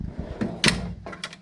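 Metal drawers of a tool cabinet being pulled open, a few short close sliding clacks and rattles.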